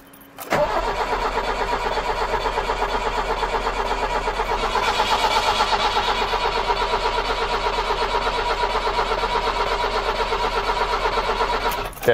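Old 1990 Iveco Daily 35-8 diesel engine cranking at length with a rapid, rhythmic starter chug, loud and close, not catching, continuing for about eleven seconds.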